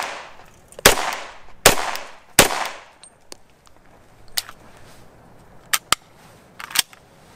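Several sharp gunshots from a SIG Pro SP2340 polymer-framed pistol, three loud evenly spaced shots followed by quieter, more scattered shots, each a crisp crack with a short decay.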